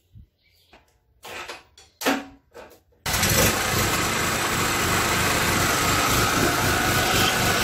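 A 2500 watt self-start generator indoors: a few brief cranking bursts, then it catches and runs with a loud, steady engine drone that continues to the end.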